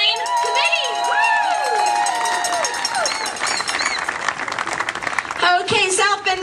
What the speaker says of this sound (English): Let's give a round of applause for our 2009 committee.